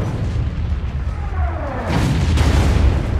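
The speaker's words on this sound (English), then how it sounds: "you can call in an artillery strike that decimates your enemy" An artillery strike on the Bayview map in a shooter game, a deep rumbling barrage that swells after the first seconds and rolls on heavily with low booms and no speech.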